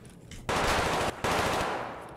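Two loud, close bursts of automatic gunfire in the shooter Escape from Tarkov, a short rattling volley followed after a brief gap by a second, longer one that tails off.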